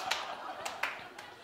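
One audience member at a stand-up comedy show claps in a few sparse, separate bursts, faint and a little distant, over quiet room murmur.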